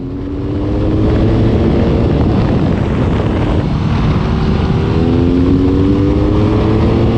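A BMW R nine T Urban GS motorcycle rides steadily at speed, its engine drone loud and continuous beneath rushing wind, with a rising pitch as it accelerates.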